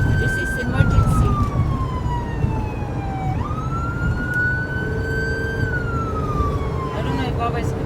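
An ambulance siren wails through Dubai traffic, its pitch sweeping slowly up and down, loud and close over a steady rumble of road noise, while people talk underneath.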